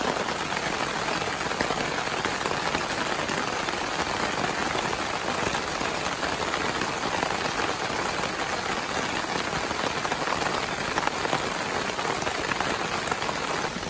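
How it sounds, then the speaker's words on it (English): Heavy rain pours steadily on a forest campsite in a national forest, a dense, loud, unbroken hiss of drops hitting surfaces with no pauses. "it's raining super hard"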